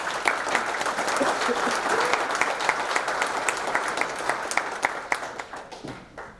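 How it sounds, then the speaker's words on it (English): Audience applause fills a Hall of Fame induction ceremony hall, a dense steady wash of many hands that thins toward the end into a few scattered claps. "I'd like to give him a round of applause"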